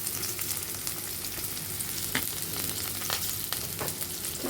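Chopped onion and green chili fry together in white oil, producing an even, close crackling sizzle with a few sharper pops and spatula touches over a few seconds, no speech.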